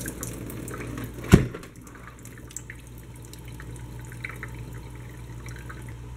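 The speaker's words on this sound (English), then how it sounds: "The first thing I'm going to do is pour out some water" Water pouring out of the top of a Hydor canister aquarium filter during cleaning after a year of use: a soft, steady trickle with one brief splash near the start, no talking.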